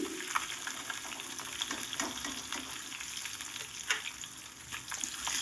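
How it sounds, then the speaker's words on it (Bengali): Small fish sizzle and crackle steadily in hot oil in a pan, a dense, close frying hiss with occasional sharper pops, with no voices over it. "আরও চারটি মাছ আছে সেটাও আমি ভেজে নিচ্ছি"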